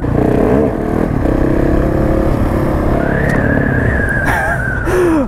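Several motorcycles on a Swedish country road, engines droning loud and close throughout, with rising and falling revs as riders open the throttle near the end.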